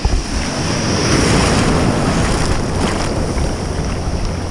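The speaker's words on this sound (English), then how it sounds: "all you hear is the ocean" Ocean waves wash over a reef off Maui, a steady, loud broadband roar with rushing surf and some wind buffeting the microphone, continuous throughout with no voices.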